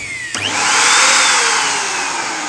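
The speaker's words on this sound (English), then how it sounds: "This is the sound of the motor," An 800 watt Eureka Forbes vacuum cleaner motor switches on after a short click and spins up into a loud, steady whine that holds and slowly eases, heard close with no talking.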